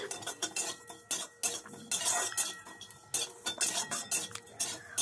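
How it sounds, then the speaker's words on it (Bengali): Cumin, coriander and five-spice seeds dry-roasted in a pan while being stirred, with close, busy clinks and scrapes of a utensil against the pan over a steady sizzle-like hiss. "জিরে, ধনে আর 5 ফোড়ন শুকনো খোলায় ভেজে নিচ্ছি"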